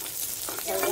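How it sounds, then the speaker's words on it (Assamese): Food frying in a pan as it is turned over and over, a steady hiss with soft scraping that grows slightly louder toward the end, with no talking. "লুটিয়াই লুটিয়াই এইটো ভাজি ল'ম অলপ দেৰি।"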